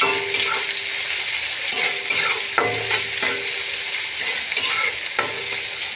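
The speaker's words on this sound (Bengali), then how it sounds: "একদিকে আমার মাছটা ভাজা হচ্ছে" Fish and onion fry in oil with ginger-garlic paste while being stirred, a continuous loud sizzle broken by repeated scraping strokes of a spatula in the pan.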